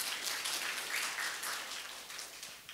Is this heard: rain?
no